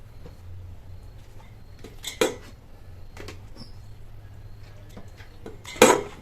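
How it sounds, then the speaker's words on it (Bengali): Papaya pieces are pierced with a wooden stick in a kitchen, giving two sharp, brief clicks against a dish a few seconds apart. A low, quiet background hum runs beneath them. "একটা কাঠির সাহায্যে আমি ছিদ্র করে নেব, তবে আপনারা এই কাজটা কাঁটা চামচ দিয়েও করতে পারেন।"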